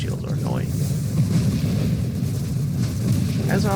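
Dense, rumbling explosions from the space shooter game Nova Drift blur into a continuous low roar with brief bursts on top, and someone talks over the din.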